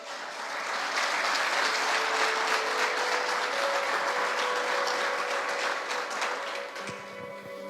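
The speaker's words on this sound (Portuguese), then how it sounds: "Aplauda o Senhor." A church congregation at a celebration service applauds the Lord, dense clapping that swells and holds steady, with a faint tone sustained under it before it fades at the end.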